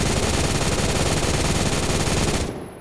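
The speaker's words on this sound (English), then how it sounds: "That's a minigun. I literally just made a minigun." Very rapid, minigun-like gunfire from a weapon in the video game Phantom Forces, a loud unbroken roar of shots that cuts off abruptly near the end.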